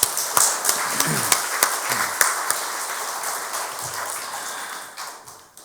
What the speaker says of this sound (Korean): 다시 한번 우리 하나님께 영광의 박수를 올려드리겠습니다.